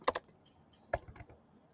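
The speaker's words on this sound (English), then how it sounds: "let me type painkillers." Typing on a computer keyboard: two short bursts of quick key clicks, close and clear, with a brief pause between them.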